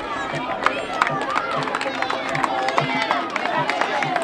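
Spectators at an outdoor cross-country race clap in a steady, even beat to cheer a runner on. The rhythmic applause sits under an announcer's amplified voice and the murmur of the crowd.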